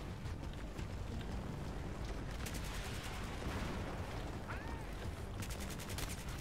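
Bursts of rapid gunfire crackle through a dense, noisy battle soundscape in Battlefield 3, with rattling volleys at a steady moderate level and no clear voices.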